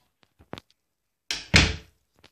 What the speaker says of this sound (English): Can you close the door when you leave?